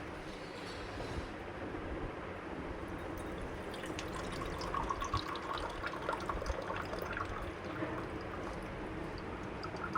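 Dirty water runs through a homemade automatic water filter fitted with a battery-driven fan, making a steady rushing, trickling wash with faint drips throughout, moderately quiet and without voices.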